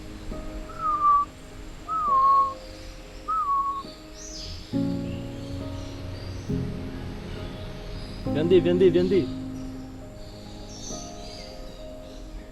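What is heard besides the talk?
bird calling from up high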